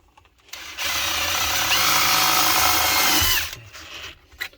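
A power drill drives a 5/16 self-tapping screw to mount relays during an HVAC motor replacement, a loud close whine ramping up for about three seconds before stopping, followed by light handling clicks.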